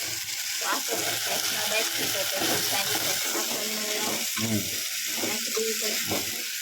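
Whole cumin seeds sizzle in hot tempering oil, a steady loud crackling hiss running throughout while a person talks over it.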